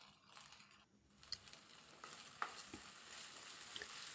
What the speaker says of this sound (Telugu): దీన్ని కూడా బాగా ఫ్రై అవ్వనివ్వాలి.